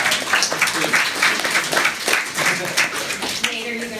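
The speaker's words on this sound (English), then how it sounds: "And give Nate a round of applause for his incredible work." A student audience at a university talk breaks into a round of applause, uneven bursts of clapping rising and falling, with voices speaking over and between the claps.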